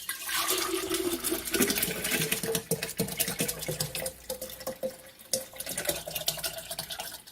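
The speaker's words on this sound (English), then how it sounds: "I'm just going to pour that in there." Strawberry lemon punch pours steadily into a jug with a continuous splashing gurgle, a few clinks and drips breaking through near the end.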